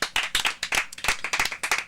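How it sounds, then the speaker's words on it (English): Audience clapping at a Niner Empire fan club gathering in Brentwood, a close, busy patter of many hands with uneven bursts and no talk over it. "Let's have a big round of applause for Elvin Geronimo"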